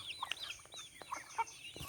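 Giriraja chickens cluck and chatter in short, overlapping calls, faint and close together, with a few sharper clucks standing out against quiet surroundings and no speech.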